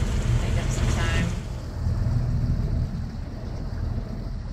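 Boat engine pushed into high gear on open sea, a steady loud low rumble with wind and water wash running throughout, voices briefly audible over it.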